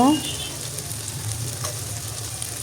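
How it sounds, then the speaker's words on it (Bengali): Onions frying in a pan produce a steady, even sizzle with faint stirring clinks, close and moderately loud, with no voices. "এখন পেঁয়াজগুলো খুব সুন্দর করে ভেজে নেব"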